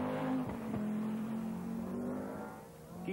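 Turbocharged four-wheel-drive Audi rally car at the 1983 Monte Carlo Rally, its engine droning loud and close with sharp revving surges and gear changes, pitch wavering as it accelerates, ending on a fresh rise.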